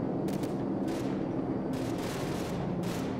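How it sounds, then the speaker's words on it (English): Heavy bursts of gunfire from an AC-130 gunship in Call of Duty 4 rattle through a constant low engine drone, with about four distinct bursts spaced across a few seconds and no voices. "You're firing too close to the friendlies."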